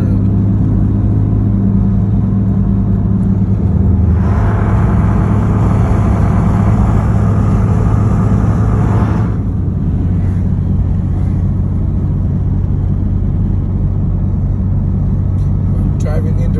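A car travels a mountain road toward Wrightwood, passing fire-burned slopes near the snow line at about 4,000 feet. Steady low road and engine rumble runs throughout, with a brighter swell of tire and wind noise midway, under occasional talk.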